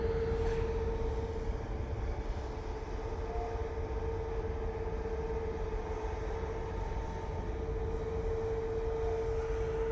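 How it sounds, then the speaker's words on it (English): A Qatar Boeing 777-300ER jet departing Manchester Airport produces a steady, loud roar of engine noise with a sustained whining tone, continuous and unbroken across the whole stretch with no talk. "next out will be the Qatar 777-300ER going back to Doha"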